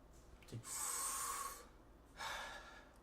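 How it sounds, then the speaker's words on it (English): A person draws one long, deep breath, followed after a short pause by a second breathy rush of air, close and fairly quiet with no talking. "Take a deep breath."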